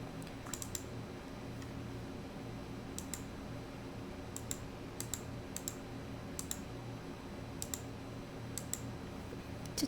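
Keys tapped on a computer keyboard while designing a calendar layout, sparse clusters of light clicks scattered over a low steady background hum, quiet and close.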